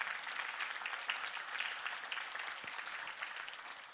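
Steady, full applause from a large conference audience clapping for the farmers, a dense continuous wash of hand claps sustained evenly throughout with no speech over it.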